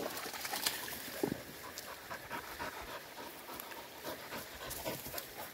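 Dogs pant faintly at a lake's edge outdoors, soft quick breaths repeating under occasional nearby bird coos and light ambient noise.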